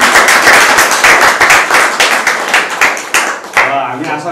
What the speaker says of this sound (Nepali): म्यामको सबै लागि एकदम जोरदार ताली बिग राउन्ड